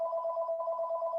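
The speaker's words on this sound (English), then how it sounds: "Phone ringing in the office." An office telephone rings with a steady electronic warble that pulses quickly and continuously, clear and moderately loud with nothing else audible.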